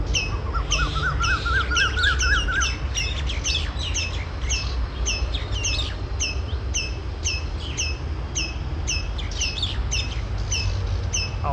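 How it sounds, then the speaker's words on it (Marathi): Several myna birds call from above, a repeated series of sharp chirps and whistled notes with a brief rapid trill early on, over a steady low background hum. "वरती सालुंकी आहे. 2-3 पक्षी ती बघा."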